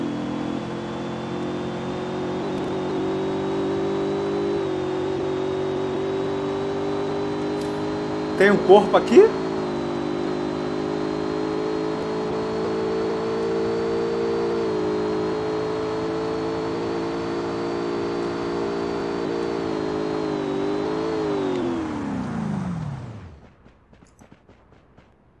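A car engine in the Rules of Survival video game drones at a steady, loud revving pitch for about twenty seconds, with a brief burst of gunfire in the middle, then winds down and cuts off; someone speaks briefly.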